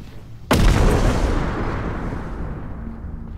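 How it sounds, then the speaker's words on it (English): Bomb explosion in the video game Content Warning, a single sudden loud boom that hits sharply and then rumbles away over a few seconds, close and alone without talk. "Oh, that's a bomb."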